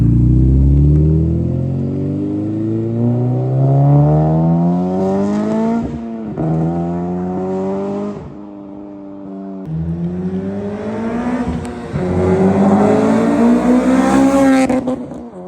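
Honda Civic engine fitted with a Skunk2 Mega Power intake manifold revs hard and loud, climbing repeatedly in rising harmonic sweeps with brief drops between pulls, close by and with no talking.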